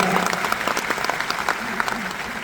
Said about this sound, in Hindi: मैं चाहूंगा उनके लिए भी एक बार ताली बजा दी जो 2000 प्राप्त करके।